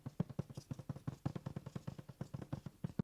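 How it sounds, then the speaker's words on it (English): Taut embroidery fabric stretched in a hoop, tapped with a finger to give a drum-like sound: a quick series of about twenty-five close, soft, dull thumps in a steady irregular rhythm, heard alone. "We want our fabric to sound like a drum while it's in the hoop"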